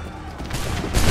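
Musket volley in Assassin's Creed III, a burst of many flintlock shots fired together as a dense, rolling crackle that swells louder toward the end, close and powerful.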